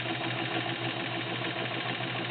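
A vintage Kenmore 85 sewing machine runs on a tabletop with a steady, continuous motor hum and whir, even and unbroken throughout, with no voices.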